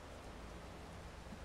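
Rain falling in the video game Farming Simulator 22: a steady, even hiss of rainfall that fills the whole short stretch at a low, constant level, with no talking.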